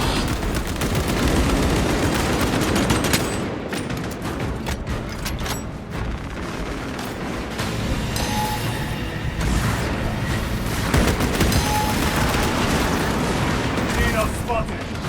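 Gunfire in the Warhammer 40,000: Space Marine 2 video game on PS5: dense, sustained bursts of automatic shots and booming impacts with mechanical clatter, loud and continuous throughout, with voices mixed in among the battle noise.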